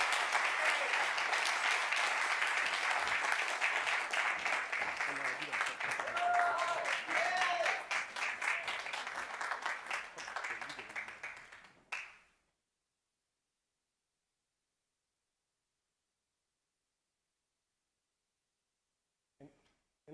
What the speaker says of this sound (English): Let's give him a hand clap for him.